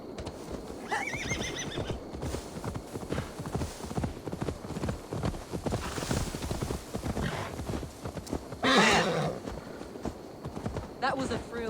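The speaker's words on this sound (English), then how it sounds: "Now to deliver Magni his horse." A horse in Assassin's Creed Valhalla clip-clops along steadily throughout, with loud whinnies around the one-second mark and near the nine-second mark, the hoofbeats sitting among game music and ambience.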